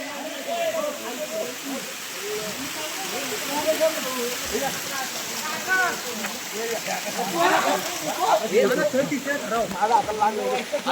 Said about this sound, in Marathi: इथनं पाणी निघतंय.